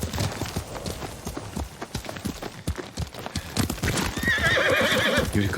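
Horse hooves clip-clop in a steady rhythm in the Ghost of Tsushima video game, followed near the end by a loud, close whinny. There is no speech.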